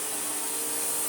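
A Hoover Telios Plus Eco-G TTG1100 cordless vacuum cleaner runs with a steady, loud, high-pitched motor whine and rushing airflow, close up and without talk.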